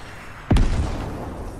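A rocket explodes in Fortnite with one sharp, loud blast that drops into a falling boom, then a long rumbling tail as the noise fades slowly.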